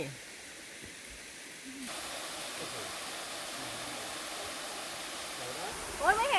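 A waterfall in Thap Luang, Ban Rai, Uthai Thani, Thailand: a steady, soft, hissing rush of falling water that goes on throughout and grows slightly brighter partway in, with a brief higher sound near the end.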